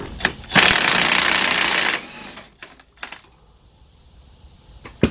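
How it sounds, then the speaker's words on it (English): A cordless impact wrench with a 33mm socket on a 1/2-inch drive hammers loose an axle nut on a Chevy Equinox or Buick Rendezvous in one loud, close burst of about a second and a half, followed by a few sharp clanks. "we're going to remove the axle nut that's inside of here. Get our cordless impact."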